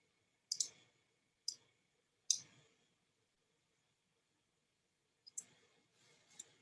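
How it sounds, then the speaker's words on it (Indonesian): Computer mouse clicks sound close and crisp in a quiet room: sharp paired double-clicks spaced a second or so apart, then another cluster after a silent gap. "Kayak kalau di double klik ya, saya double klik"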